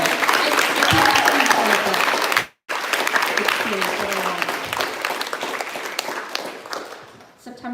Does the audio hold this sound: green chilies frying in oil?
no